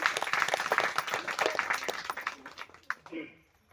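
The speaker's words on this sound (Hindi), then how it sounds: "सभी महिलाओं के लिए और रूपा जी के लिए जोरदार ताली बजाएं।" An audience at a community anniversary gathering claps for the women and for Rupa ji, a busy patter of applause with voices mixed in, fading out toward the end.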